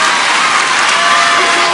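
A French TV talent-show studio audience claps and cheers loudly, a thick continuous wash of applause with scattered whoops and shouts rising from the crowd, no talk over it.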